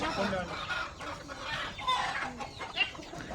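Several free-range hens and roosters cluck and chatter nearby on a farm, with a few sharper calls, while people talk in the background.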